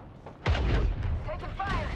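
Gunfire in a team battle royale video game: a sudden loud blast followed by a rumbling burst of shots, with game sound effects and tones trailing after, no words spoken.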